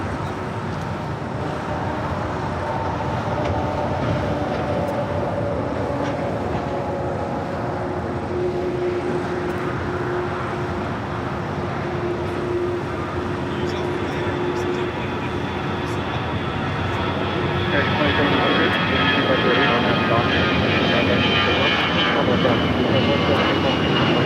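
A Boeing 787-9 Dreamliner jet at Los Angeles airport gives a steady, broad engine roar that swells louder toward the end, with faint radio voices underneath.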